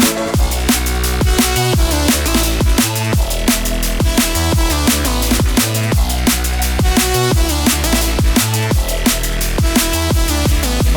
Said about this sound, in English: It's just this cool little squarey sound that goes in the background like